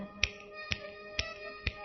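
Four crisp finger snaps at an even, unhurried pace, close and clear, with no talking.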